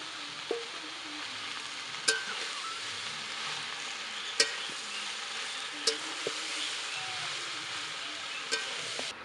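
Pre-fried vegetables are stirred into a hot pan with a soft sizzle. Utensil taps and scrapes come every couple of seconds over a quiet background.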